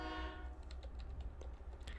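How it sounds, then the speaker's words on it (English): Computer keyboard keys pressed rapidly and repeatedly, a dense run of close clicks and taps over a low rumble of a passing train. "I'm just right now I'm just pressing all the keys that I can."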